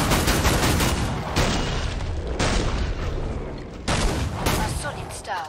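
Gunfire during wave 7 of a zone defense match in a video game, with loud repeated bursts and booming shots in clusters, broken by brief gaps, up close and dominating the mix.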